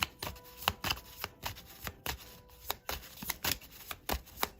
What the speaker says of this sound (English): You got me shuffling.